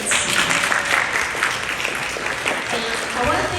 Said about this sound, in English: I'd like to give a round of applause to the candidates.